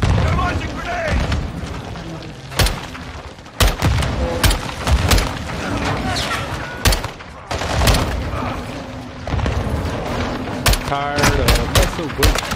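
Grenades launched and exploding amid combat in the game Call of Duty: Modern Warfare 2, heavy booms and sharp bursts of gunfire cracking repeatedly over a dense, noisy battle bed, with voices shouting in between.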